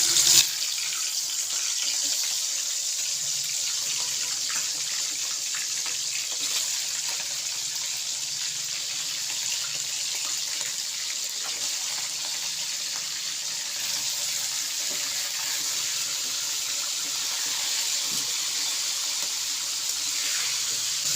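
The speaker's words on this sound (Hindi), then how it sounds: "हम 5 से 6 मिनट तक चिकन को फ्राई करेंगे ऑयल में अच्छी तरीके से" Chicken frying in oil in a karahi, a continuous, fairly loud bright hiss and sputter that holds steady from start to end, with no voices.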